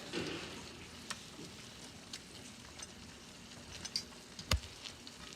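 Pork chops sizzling in a frying pan as they are flipped over, a soft continuous frying hiss with a few light clicks and a sharp clink near the end, quiet and close, without talk.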